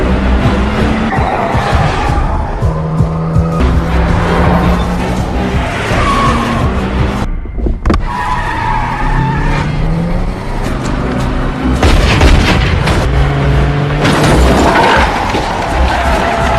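A stolen car speeds away, its engine roaring hard and its tires squealing and skidding in repeated drawn-out screeches. The sound is loud and continuous, swelling and shifting in pitch, with faint voice-like sounds mixed in.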